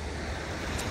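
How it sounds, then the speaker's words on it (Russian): Steady roar of surf from the Sea of Okhotsk near the mouth of the Bolshaya River in Kamchatka, a continuous broadband wash with wind buffeting the microphone and no talk. "Ребятушки, Охотское море."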